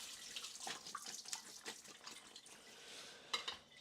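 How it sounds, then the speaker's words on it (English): Tap water runs steadily into a sink, rinsing cut potatoes for jojos, a soft continuous hiss with faint clinks and splashes from the pieces shifting. "Just rinsing it off a little bit."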